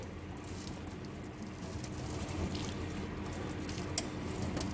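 Hot water from a 1.7 litre kettle poured over a whole duck for roasting, a steady close splashing and trickling stream that runs continuously with light dripping patter.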